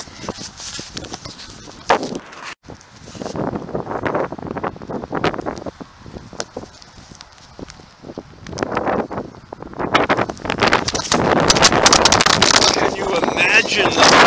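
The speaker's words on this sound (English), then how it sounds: "Lot of fucking wind, dude." Strong wind buffets the microphone on a winter outing, with gusts building to a loud, continuous roar toward the end, and voices talking underneath.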